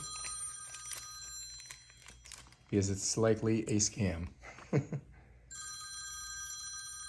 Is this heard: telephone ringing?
yes